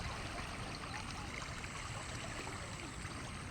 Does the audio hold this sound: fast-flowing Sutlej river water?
yes